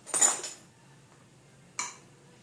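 Peanut butter drops from a metal measuring spoon into a bowl of butter, heard as two separate clinks of spoon against the bowl, the first brighter and longer, the second a short knock about a second and a half later.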